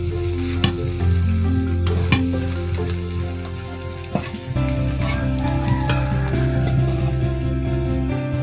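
Spine gourd (kakrol) fries in oil in a wok, making a loud, continuous sizzle with scattered spits and pops throughout, alone with no voices.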